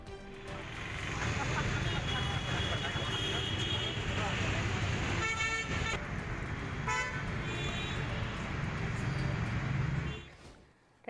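Car horns toot intermittently through a dense, steady roar of traffic stalled on a road where a heavy container struck a height barrier, with a bus among the vehicles; voices are mixed into the din.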